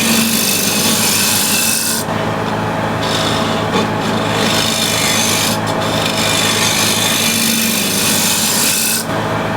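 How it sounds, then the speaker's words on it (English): A shear scraper works across a spinning wooden bowl on a lathe, making a loud, continuous rasping scrape with the motor hum beneath and a few brief changes in tone as the cut lightens and resumes. "Now I can use a shear scraper as well."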